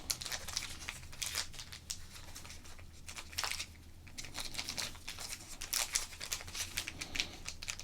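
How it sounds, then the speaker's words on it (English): A foil wrapper on a pack of baseball cards crinkles and tears as it is opened, with close, crisp bursts of irregular crackling and rustling at varying loudness, and no talking. "A little bit of crinkles."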